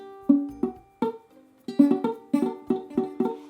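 Ukulele chords strummed with too little finger pressure on the strings come out muted and dull, in short rhythmic strums with quick decay and a few brief gaps.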